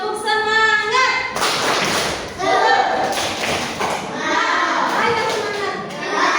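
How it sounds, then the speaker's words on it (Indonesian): A group of children claps a rhythmic spirit-clap pattern, sharp thudding claps in quick patterned bursts mixed with chanting and voices of kids, after an adult voice speaks. "Kita tepuk semangat dulu. Tepuk semangat."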